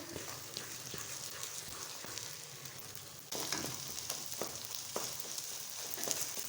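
Makhandi halwa roasting on medium heat in a pan as its milk dries out: a faint, steady sizzle with soft scraping and stirring clicks from a spoon, with no talk.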